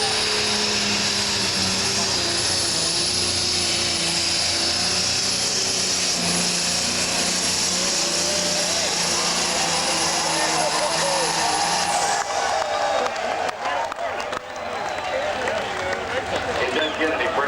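A John Deere diesel super stock tractor on a pulling run at an NTPA tractor pull in Tomah, Wisconsin, a loud sustained roaring engine with a high whine that drops off near the end, under an announcer's voice over the PA.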